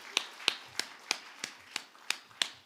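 A church congregation gives a short round of clapping, heard as eight sharp, evenly spaced claps in a steady rhythm, fairly close and moderately loud, with faint low sounds between the beats and no talk.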